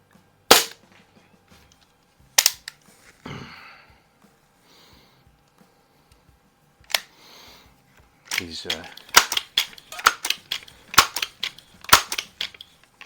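Several sharp, muffled snaps from suppressed Crosman air rifle pellet shots ring out singly with pauses between, then a quicker cluster of clicks and handling noises follows.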